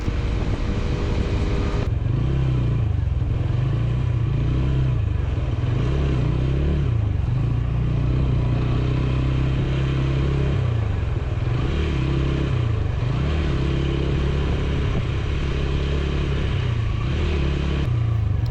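A Royal Enfield Bullet motorcycle cruises along a highway, its steady low engine thump loud and continuous under strong wind rush, with slight rises and falls in the exhaust beat as the ride goes on.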